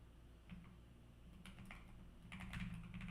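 Keys on a computer keyboard are typed in irregular bursts of crisp, fairly quiet clicks during a coding session, over a steady low hum, growing busier toward the end.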